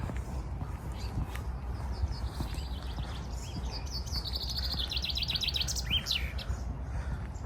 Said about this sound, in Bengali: পাখির যে কিচির বিচির আছে আওয়াজ কিন্তু শুনতেছেন